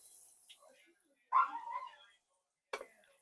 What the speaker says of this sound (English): I'm sorry if you hear the dogs, they want to get out.